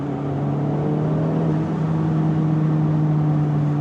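A 2024 Acura Integra Type S engine drones steadily under load with a strong low hum and exhaust note, held loud and close throughout without clear separate pops.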